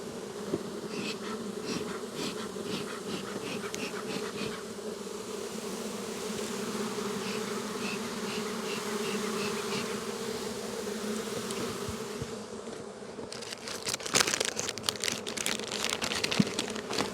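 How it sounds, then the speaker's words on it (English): Dense, continuous buzzing of many honeybees close by in an open hive, with rustling and crinkling noises toward the end. "They're just loaded with bees"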